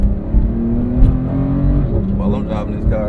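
Porsche 911 GT3 engine pulling hard from inside the car, a loud, close, rising roar with shifting pitch, while someone talks over it.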